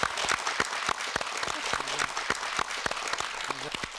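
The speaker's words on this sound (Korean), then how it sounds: "박동진 선생님, 여러분 박수로 환영해 주십시오" Audience applause welcoming pansori master Park Dong-jin on stage, distinct individual claps with a brief voice calling out partway through.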